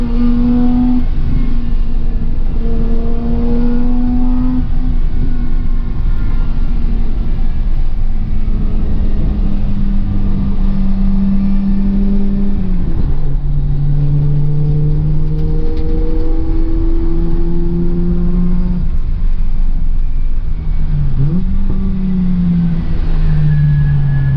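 A race car lapping a track at a SpeedSF event, its engine droning loud and steady throughout with rising and falling revs as it shifts gears and works through corners.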